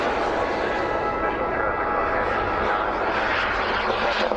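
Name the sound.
model jet aircraft flying over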